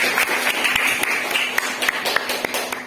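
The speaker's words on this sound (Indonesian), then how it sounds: "Berikan aplaus untuk kita semua" Classroom applause at the close of a group discussion on Muslim dress, a dense patter of many hands clapping steadily for about three seconds with a few sharper individual claps standing out.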